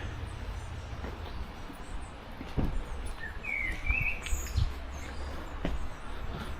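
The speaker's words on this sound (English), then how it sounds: "Those are the dicky birds." A few faint, brief small-bird chirps near a church in Marsden, West Yorkshire, over a steady low rumble of distant outdoor noise.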